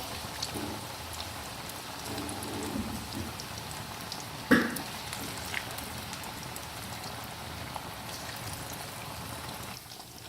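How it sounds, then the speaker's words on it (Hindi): Besan-coated fish fries in hot oil, giving a steady, even crackling sizzle throughout, soft and close, with one brief louder pop partway through. "बेसनी फ़िश हमारी फ्राई हो रही है।"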